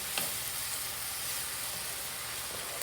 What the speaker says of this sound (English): We're going to mix these mushrooms in.